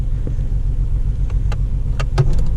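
A 1982 Ford Sierra Ghia engine runs rough as the car moves under its own power. A steady low rumble fills the cabin, with a few light clicks and rattles on top.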